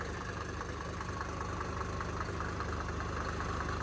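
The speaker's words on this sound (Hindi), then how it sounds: "listen to a 40 years old diesel engine" A 40-year-old Mercedes W124 diesel engine idles steadily with a close, even low rumble and a fine rhythmic clatter, no voices over it.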